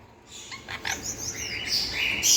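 Pet sun conure parrots let out a quick run of sharp chirps and rising squawks close by. The calls get louder toward the end, and no one speaks.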